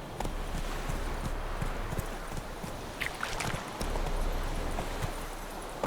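Roach, a horse in the video game The Witcher 3, gallops with a steady, rapid clip-clop of hooves that runs continuously, fairly close and loud, with no talking.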